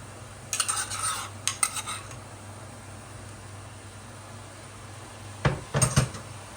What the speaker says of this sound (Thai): ใส่เครื่องแกงลงไปจ้ะ